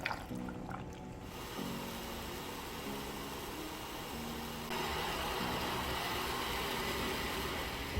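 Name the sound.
blender blending juice ingredients with ice and water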